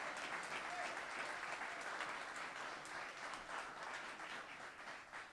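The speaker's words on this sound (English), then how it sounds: "And it really is exciting, and Lisa and Tim deserve another round of applause from us because they're amazing." Steady applause from an audience at a ribbon cutting for a microgreens farm, a dense, even patter of many hands clapping throughout, fairly faint and distant.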